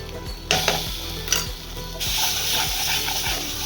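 Spice masala sizzles and fries in a pan while poppy seed paste is added and stirred in. A utensil scrapes and clinks against the pan over a steady close frying hiss.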